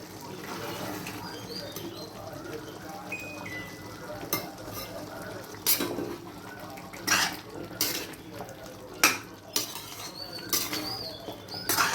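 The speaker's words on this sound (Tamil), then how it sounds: "நல்லா மிக்ஸ் பண்ணிக்கலாம்" Chicken pickle stirred in a pan, with a soft continuous sizzle under repeated sharp metallic clinks and scrapes of a spoon against the pan, growing busier toward the end; no voices.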